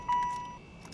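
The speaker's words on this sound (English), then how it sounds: "That noise you heard was the power antenna" A quiet, steady electric whine from a car's power antenna retracting after the ignition is switched off, lasting about half a second, with faint clicks and thumps around it.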